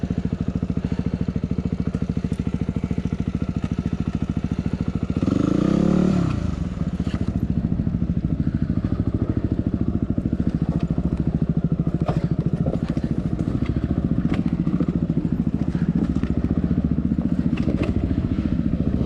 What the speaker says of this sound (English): Well, there's Mal finally riding up the hill.